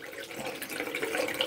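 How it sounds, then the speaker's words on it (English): Tap water runs steadily in a farmhouse kitchen or bathroom, a continuous close hiss and splash that stays fairly even and rises slightly toward the end. "All that water being wasted."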